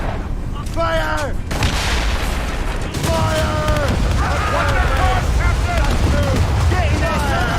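Naval cannon fire in Assassin's Creed Rogue, loud booming volleys over constant battle noise, with shouted commands overlapping the blasts throughout.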